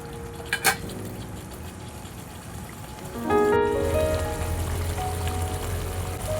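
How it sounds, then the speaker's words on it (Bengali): Fried pabda fish dropped into a boiling curry, a brief clatter then a bubbling, sizzling simmer that swells and holds steady at close range, with no voices. "এবারে ভেজে রাখা মাছগুলো দিয়ে দেবো।"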